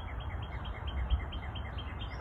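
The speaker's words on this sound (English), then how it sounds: "listen to the birds chirp" Birds chirp outdoors in a soft, steady series of small repeated calls over a low background hum, faint and distant throughout.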